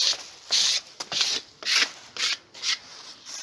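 Sandpaper scrubs over painted wooden window sills during a Rationel window restoration, making about six rhythmic, close, raspy strokes separated by short pauses.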